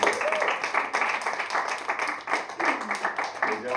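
A round of applause for a performer after a play, moderately loud clapping from a small audience with uneven bursts, voices and chatter mixed in throughout.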